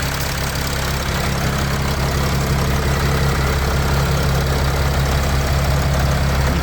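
A 3-litre Mercedes Sprinter 519 diesel van engine from 2012 idles steadily up close, a continuous low rumble with a faint rhythmic knock and no voices.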